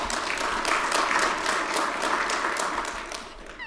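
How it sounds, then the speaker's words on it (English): Sustained audience applause at a county government address, a steady wash of many hands clapping filling the room for several seconds without pause. "That also deserves a big round of applause."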